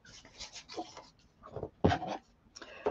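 Close scissors snip through paper while cutting out a circle for card making, in a series of irregular crisp cuts and crunches, with short pauses between them.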